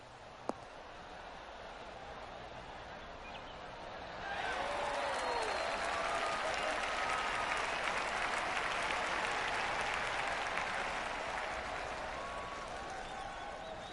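A golf gallery in the video game PGA Tour 2K23 breaks into sustained applause after a shot, swelling midway and slowly fading, heard at a distance over a faint background.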